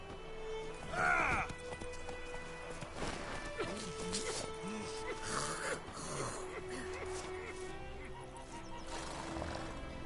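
A horse in the video game Witcher 3 whinnies sharply early on, then its hooves clop irregularly beneath layered game sounds and muffled voices.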